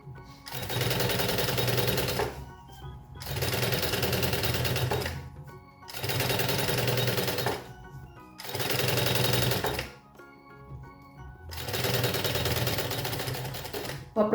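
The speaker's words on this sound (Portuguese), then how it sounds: "a gente vai ajeitando e costurando um pouquinho" A sewing machine runs in five steady bursts, each about two seconds long with short pauses between, as a zipper is stitched onto a fabric lunch bag. The sound is close and loud, with no talking.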